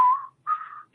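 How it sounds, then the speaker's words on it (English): A lone person whistles a short tune, two clear sustained notes with a brief gap between them, close and fairly soft. "sometimes I think it's nice with a little bit of whistling"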